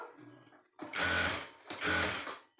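A sewing machine stitches a princess cut blouse in two short whirring runs, each about a second long with a mechanical clatter, separated by a brief pause. The sound is close and there is no talk.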